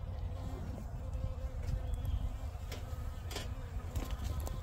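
Bees hum and buzz around an opened Layens hive, a low continuous drone close by with faint passing insect whines and light handling noises.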